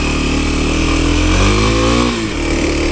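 Kawasaki KLX 300 dirt bike engine on a trail, loud and close, holding a steady rev with harmonic drone, then easing off briefly near the end before picking back up.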